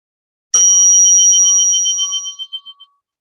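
A single meditation bell struck once during a guided breathing session, its bright ringing tone sustaining clearly alone before slowly fading away.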